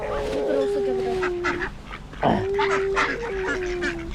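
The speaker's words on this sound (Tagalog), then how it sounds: "Those are ducks, Steve." Ducks quacking and honking close by at a feeding session, a few calls over steady background noise, with faint voices nearby.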